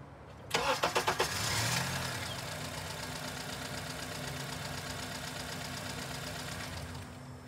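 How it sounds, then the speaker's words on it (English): A Honda engine cranks with a few rapid starter pulses, catches and fires up, then settles into a steady idle that continues at moderate level to the end. "So I'm gonna crank the engine."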